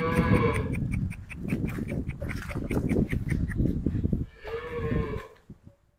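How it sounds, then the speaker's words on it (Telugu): A Holstein Friesian dairy cow at a farm sale lows repeatedly in long, loud, harmonic moos, with a second drawn-out call near the end and a few faint knocks as it fades. "ఇది హెచ్ఎఫ్ ఆవు అన్న"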